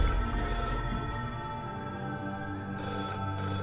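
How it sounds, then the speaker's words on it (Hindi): A telephone rings in a steady electronic trill, moderately loud and close, continuing throughout with no voices. "उस टेलीफोन के बजने की आवाज आई"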